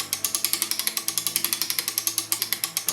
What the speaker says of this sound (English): Reverse the flow of the winder. Let it wind down slowly.